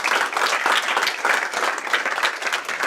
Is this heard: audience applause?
yes